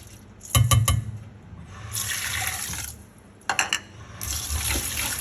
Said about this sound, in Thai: นำข้าวมาล้างค่ะ ล้างสักสามน้ำค่ะ